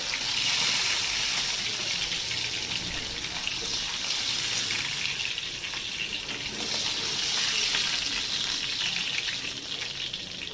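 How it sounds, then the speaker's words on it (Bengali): Steady, dense crackling sizzle of fish frying in hot oil, continuous and fairly close throughout with no talking. "বাদ বাকি মাছগুলোকেও ভেজে নেবো।"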